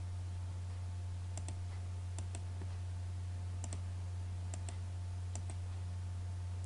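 Computer mouse clicks while drawing in AutoCAD: paired crisp clicks repeating every second or so, faint and close over a steady low electrical hum.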